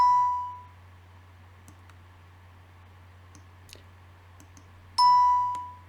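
Soft mouse clicks set multi-point stitching in ProStitcher software on a quilting machine, with a bright chime at the start and again near the end over a low steady hum.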